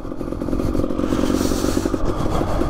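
A KTM 300 EXC two-stroke dirt bike being ridden slowly off-road, a continuous loud buzzing engine with slight revs, plus scraping and clattering from the terrain.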